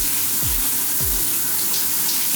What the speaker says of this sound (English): It's one of these waterfall showers, and I wish I could bundle this up and take it with us.